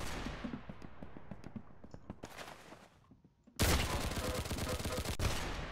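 A Bizon submachine gun fires in Roblox Arsenal with rapid, evenly spaced shots, first steadier and fading, then a sudden louder, denser stretch of automatic fire after a brief near-silent gap.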